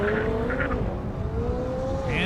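A Dodge Hellcat races down a half-mile airstrip, its engine a loud, sustained roar whose pitch climbs steadily as it accelerates past close by, with a brief tire or wind hiss near the end.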